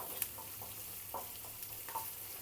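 Chopped onion fries in a pan with a steady low sizzle, broken by a few soft clicks and scrapes of stirring, faint and close, with no talking.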